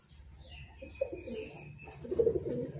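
A pair of green-colored, white-eyed, restless pigeons coo softly and steadily up close, with low rolling calls swelling toward the end over a faint background hum.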